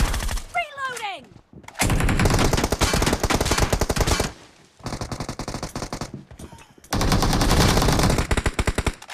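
Video game machine guns fire in long, loud sustained bursts with short pauses between, and a brief voice is heard near the start.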